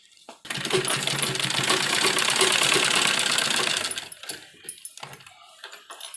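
A sewing machine runs in one long, fast, continuous burst while double-stitching the side seams of a kurti during an alteration, then stops and leaves a few soft clicks and handling taps.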